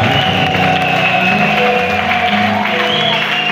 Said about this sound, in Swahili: Atusaidie kumpigia Yesu makofi mazuri kabisa